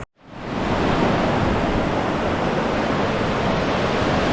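Smith and Morehouse Creek runs at high water, a loud, steady broadband roar of rushing flow that swells in within the first half second and continues unbroken and close.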